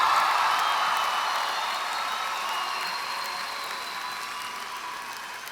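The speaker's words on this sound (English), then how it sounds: "I think we ought to cheer on our favorite hometown team" A large graduation audience applauds and cheers for the hometown team in a big arena, a dense wash of clapping that starts loud and slowly fades across the whole stretch.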